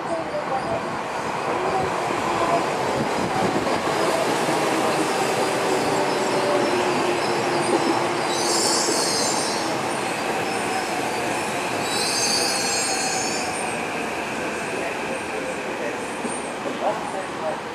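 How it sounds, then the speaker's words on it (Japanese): Tokyo Metro 13000 series subway train arriving at Kosuge station, a loud rolling rumble of wheels on rail with high squeals from the wheels, close and sustained, while a station announcement plays over it. "1番線に地下鉄日比谷線と普通各駅停車中目黒行きが参ります。"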